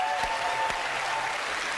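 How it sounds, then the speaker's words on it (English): A studio audience at a live paranormal TV broadcast claps for a guest, a dense, even wash of applause lasting a couple of seconds without break. "Give him a big round of applause."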